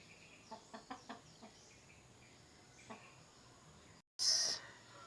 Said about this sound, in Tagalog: Yan ang manok oh. Kumakain na.